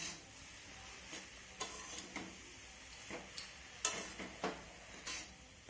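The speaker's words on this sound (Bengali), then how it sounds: "আবারও সব কিছু নেড়ে চেড়ে মিশিয়ে নেব" Raw papaya curry with fried shrimp being stirred in a pan, a quiet run of soft scraping strokes and clinks at an irregular rhythm over a faint background hiss.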